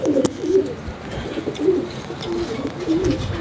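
Pigeons coo repeatedly and close by, soft throaty rolling calls over a low, steady background murmur.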